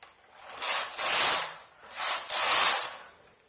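A knitting machine carriage working a lace (jali) pattern makes two sweeping passes, each a bright, ratcheting hiss that rises, holds for about a second and fades, with a short pause between them.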